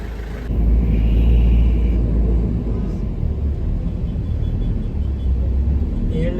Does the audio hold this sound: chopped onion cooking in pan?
no